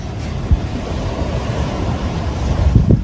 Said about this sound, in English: Wind's making it ever so hard to cast